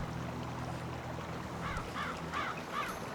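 Crows in the Pirate101 video game give four quick, evenly spaced caws near the end over a low ambient hum, fairly close and clear, with no talking.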